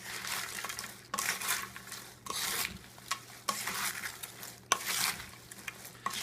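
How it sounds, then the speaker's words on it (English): Caesar salad with fresh dressing is tossed with salad paddles, making a rhythmic run of about half a dozen crisp rustling, clattering bursts, each close up and a second or so apart. "grab your salad paddles and just give it a toss"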